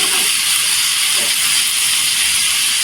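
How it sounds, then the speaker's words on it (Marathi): Onion, tomatoes and green chillies sauté in oil on a tawa for a potato bhaji, giving a steady, loud, even hiss of sizzling throughout with no voice over it. "इथे तेलावर परतायचं।"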